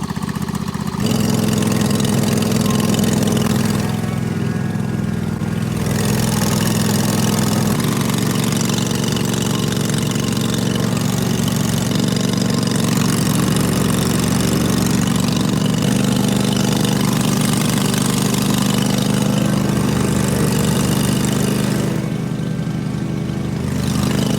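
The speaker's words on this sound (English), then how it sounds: "It's mowing. I actually like our hydro when you're mowing." A cheap homemade riding lawn mower, built for about eleven dollars and fitted with a hydrostatic drive, drones steadily as it mows a yard, loud and close, with a continuous engine note and no one talking.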